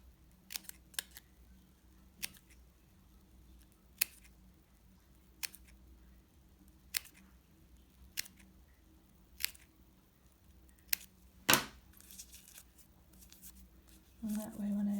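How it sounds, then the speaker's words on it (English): Scissors cut through paper pattern pieces pinned over felt for an elephant sewing project, producing separate crisp snips at irregular intervals, close and distinct against a quiet room, with some rustling at the end. "So I'm going to cut those out together with my felt underneath it."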